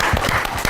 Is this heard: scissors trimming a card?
no